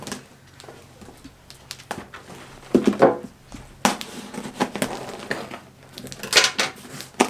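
A knife slicing and tearing open a parcel, with irregular scraping and ripping strokes of varying loudness and short pauses between them, close up and without talk.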